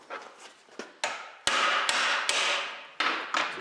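A nut being hammered off the chassis of a Model TT Ford, started backwards so the crown isn't struck: a run of sharp, close metallic blows at uneven intervals, loud and ringing, with no talking.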